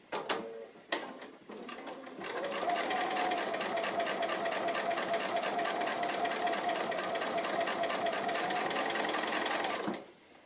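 A sewing machine stitches around small holes in an appliqué, opening with a few short clicks and bursts before settling into a long, steady, close whir that halts near the end.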